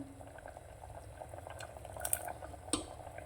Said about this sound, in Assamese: এইটো মই অকণমান দেৰি উতলিবলৈ দিম